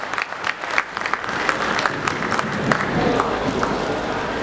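Audience at an honorary doctorate ceremony breaks into clapping, individual sharp claps near the start building into a fuller, sustained round from the crowd, with some voices beneath it.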